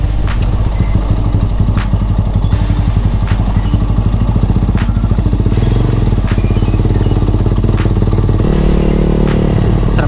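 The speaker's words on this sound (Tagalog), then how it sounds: "You are riding your motorcycle" Motorcycle ridden along the edge of a rice field in Pangasinan near the Karayan River, its engine loud and steady at close range with rhythmic clatter and thumps from the ride, and a gear or pitch change near the end.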